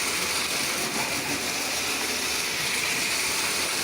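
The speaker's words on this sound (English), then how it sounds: "And we let the train go." A toy steam locomotive with a smoke unit runs along its track, giving a steady, continuous hissing whir with a faint low rumble throughout, fairly close and unbroken, with no talking.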